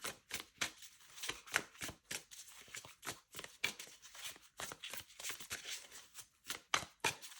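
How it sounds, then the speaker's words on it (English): Rapid riffling and flapping of a deck of tarot cards being shuffled close by, in quick repeated bursts with no talking. "Okay, it does shuffle okay."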